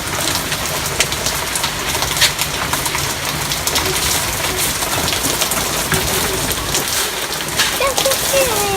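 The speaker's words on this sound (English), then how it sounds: "It is raining, pouring rain out here." Heavy pouring rain outdoors on a Fourth of July, a dense, continuous hiss of drops on surfaces with occasional faint birds behind it.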